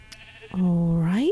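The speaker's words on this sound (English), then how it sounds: "There's more sheep down here." A single long, loud sheep bleat from a blocky video game, rising in pitch at the end, heard clearly after a brief faint onset.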